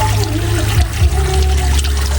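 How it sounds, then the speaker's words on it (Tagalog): Cold spring water pours steadily near mountains and rice fields, a continuous splashing gush with a low rumbling undertone that holds level throughout, close and fairly loud. "ipapakita ko sa inyo na tubig, napakalamig"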